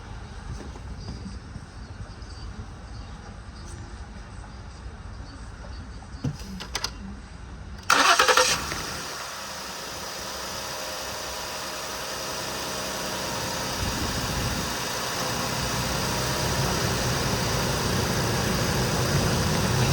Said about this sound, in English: let me go ahead and start this car. That way you can see the cold start